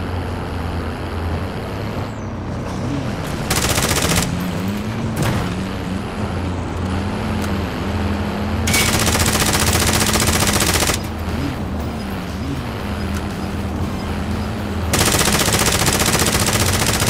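Bursts of automatic gunfire in Call of Duty: Modern Warfare, loud and repeated in long rattling volleys with a vehicle engine droning underneath.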